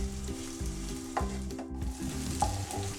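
Chopped garlic frying in a pan for shrimp head bhorta, sizzling steadily with repeated scraping stir strokes and a couple of sharp utensil clinks, close and alone without talk.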